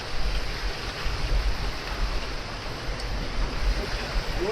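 A river rushes steadily at a hikers' crossing on the trail up Gunung Daik, a broad, constant wash of flowing water heard close by with no voices over it.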